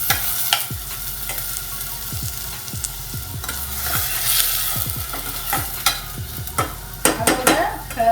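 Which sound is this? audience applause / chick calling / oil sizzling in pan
oil sizzling in pan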